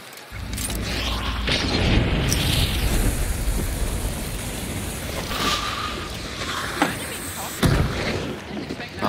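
Explosions and booming blasts in a video game, loud and rumbling with several sharp bangs and mechanical clatter, with voices talking over the action.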